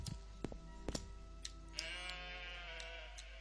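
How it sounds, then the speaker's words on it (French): A goat-like creature in the game Morrowind bleats a few times amid short clicks and taps, followed by a longer wavering bleat, fairly close and quiet. "Non mais ils font des bruits de chèvres ces mobs"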